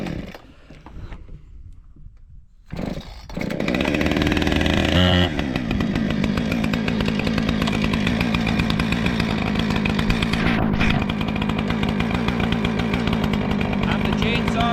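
A chainsaw starts up after quiet moments, then roars loudly and steadily as it cuts through maple wood after an ice storm, engine pitch shifting slightly under load.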